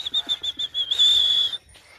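A person whistles to call chickens, first a run of short chirping pips, then one long sustained high whistle, close and clear, ending abruptly with a faint trailing note.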